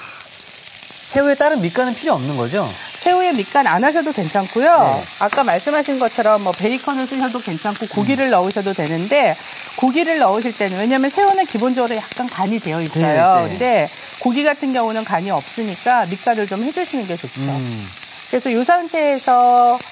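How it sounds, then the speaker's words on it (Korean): Shrimp and shepherd's purse, roots included, sizzle as they are stir-fried in a pan, a steady frying hiss with occasional stirring, heard under continuous conversation between two people. "새우가 완전히 좀 익을 때까지 같이 볶으면 이 냉이 뿌리도 있고 새우도 있고"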